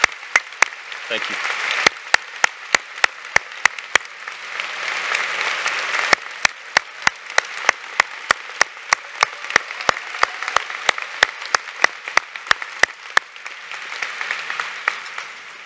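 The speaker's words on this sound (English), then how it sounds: "let's give everyone a round of applause" A seated audience at a university doctoral hooding ceremony claps steadily for about fifteen seconds, a dense sustained wash of applause punctuated by sharp close claps, without speech.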